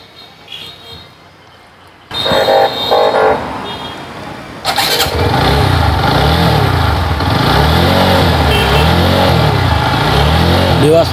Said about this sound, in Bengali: আমরা বাইকের সাউন্ড কন্ডিশনটাও আপনাদেরকে শোনানোর চেষ্টা করতেছি